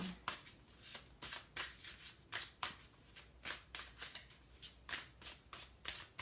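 Tarot cards riffle-shuffled over and over in quick bursts, a crisp papery flutter repeating about every half second, close up, with no talking.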